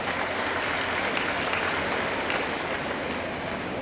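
A large crowd claps at the APEC festival 2025, producing a thick, continuous roar of applause that stays even and loud throughout with no voices on top.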